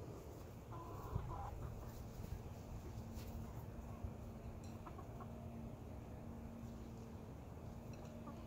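Egg-laying chickens cluck and murmur steadily while being fed a mix of pork fat, corn and layer feed, a busy low chatter of several birds close by with a faint hum beneath.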